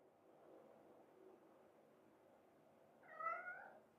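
In a quiet indoor room with a faint steady hum, a cat lets out a single short meow near the end, close and moderately loud.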